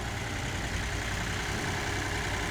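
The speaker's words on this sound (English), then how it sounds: "This engine sounds great." A boat engine idles in a continuous, even rumble with a broad steady hum and no changes in pace.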